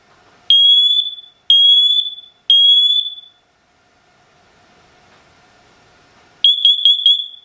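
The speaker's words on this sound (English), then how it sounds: "It'll tell you if it detects fire" A SITERWELL hardwired interconnected smoke and carbon monoxide detector under test sounds three loud, piercing beeps, falls quiet over a faint hum, then starts a rapid stuttering burst of beeps.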